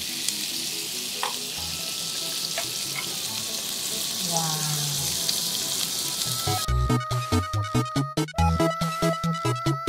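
Beef steak frying in plenty of butter in a pan, a steady loud sizzle throughout, then sharp rhythmic clatters of tongs or utensils near the end, with faint voices in the background.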